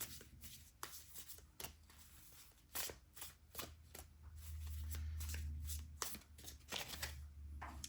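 Tarot cards are shuffled by hand in quick, crisp riffling bursts and soft slides, close and fairly quiet, with no talking over them.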